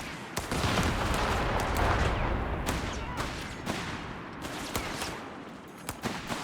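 Automatic weapon fire in the real-time strategy game Company of Heroes 3, a steady wash of distant battle noise with scattered sharp shots, moderately quiet and continuous throughout.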